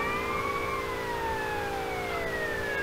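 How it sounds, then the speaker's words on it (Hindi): Wailing siren tones from police and ambulance vehicles in GTA Vice City, several pitches gliding and overlapping continuously over a rumbling traffic bed, loud and steady throughout with no talking. "पुलिस और एम्बुलेंस की सायरन सुन के"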